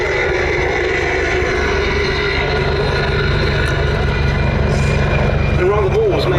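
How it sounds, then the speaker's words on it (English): A Czech Mil Mi-35 Hind helicopter displays at an air show, giving a loud, steady rotor and engine roar with a rhythmic thrumming pulse that continues without a break. "this is a helicopter that first flew as far back as 1969."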